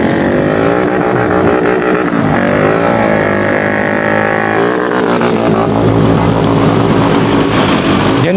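A motorcycle pushes through flood water during flooding in Perlis, its engine droning steadily and loud throughout, shifting pitch partway as it churns on, with no voices.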